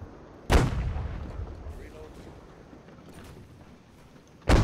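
Two booming cannon shots from warships in a naval battle between British and French sailing ships, each a loud close blast, about four seconds apart, with a rumbling background between them.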